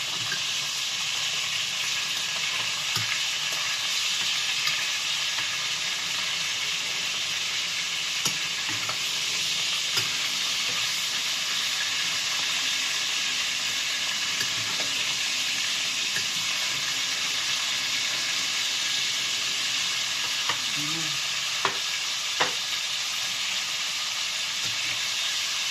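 Pieces of pork and chicken liver fry in a pan with a steady, loud sizzle throughout, joined by occasional stirring scrapes and clinks.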